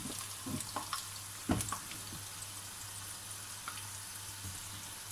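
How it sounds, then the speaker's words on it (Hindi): Aloo samosas deep-frying in oil over medium heat, a steady quiet sizzle and crackle with a few small pops and clinks, no talking. "ये मैंने मीडियम आंच पे इनमें मैं फ्राई कर रही हूँ, तेज आंच पे नहीं करने"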